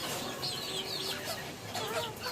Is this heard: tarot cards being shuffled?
no